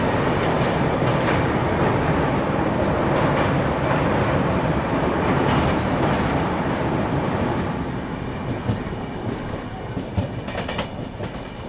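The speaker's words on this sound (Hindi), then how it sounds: "फिलहाल अपनी ट्रेन सुजालपुर रेलवे स्टेशन पहुंची है" A passenger train on the Ahmedabad to Bhopal line runs toward Sujalpur station in Madhya Pradesh, a loud, close rumble with rhythmic wheel clatter that eases and softens toward the end as it slows.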